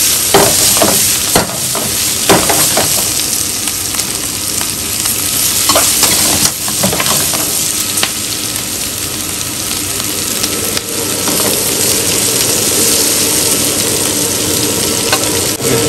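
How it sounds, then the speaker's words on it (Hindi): Chicken pieces for chicken Manchurian frying in a pan, a loud steady sizzle with stirring scrapes and clanks throughout, no talking. "थोड़ा सा फ्राई करेंगे।"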